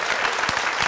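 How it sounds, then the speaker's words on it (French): An audience claps for a man named Philippe in a short, steady patter of applause at moderate loudness. "Merci d'applaudir pour Philippe"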